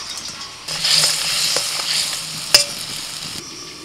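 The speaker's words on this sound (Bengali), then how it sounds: "এবার ভাজা মাছগুলো দিয়ে দিচ্ছি" Fried bhola fish drop into simmering tamarind water in a pan, setting off a sustained sizzle and bubbling with stirring scrapes and a sharp clink of a utensil midway, close up and without talk.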